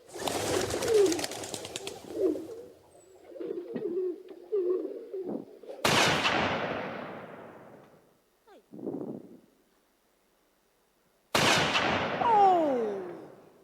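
Gunshots at a live Abakosem night shooting event, three sharp loud reports spaced several seconds apart, each decaying into a ringing tail, with crowd voices and pigeon coos between them.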